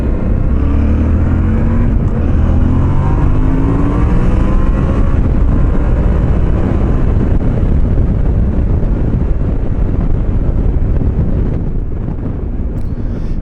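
Yamaha Tenere 700 motorcycle cruising on an open road, a loud steady engine drone mixed with heavy wind rush against the microphone throughout, with no talking.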